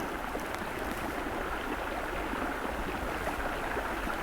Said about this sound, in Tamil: அப்படியே குளிர் தண்ணி அப்படியே ஓடிடுது வருங்க